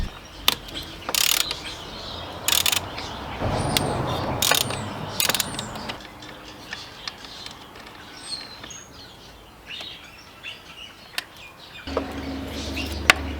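Ratchet undoing bolts on a Subaru WRX turbo, heard as several sharp, close clicking bursts in short runs, separated by quieter stretches of faint background noise.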